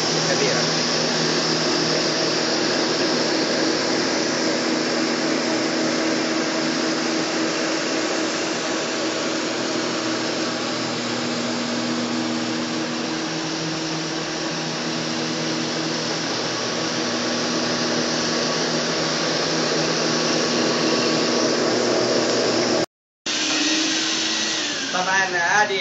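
A steam carpet cleaner's vacuum drones loudly and steadily, a constant motor whine that briefly cuts out near the end and then resumes.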